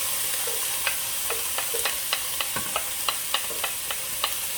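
Peppers and onions sautéing in a pan for taco oyster mushrooms, a continuous sizzle with a quick regular series of utensil taps and scrapes against the pan, close up and without speech.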